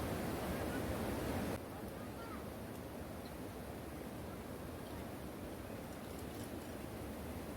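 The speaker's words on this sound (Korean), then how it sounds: "물소리도 굉장히 좋고" Flowing water at a campsite on a rainy day gives a continuous, even rushing hiss that drops slightly in level after the first second and a half, then carries on steadily.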